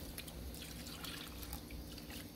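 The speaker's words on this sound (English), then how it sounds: "So we add some water here now" Water pours steadily into a pot of hassa curry, a continuous close splashing and trickling wash with no voices.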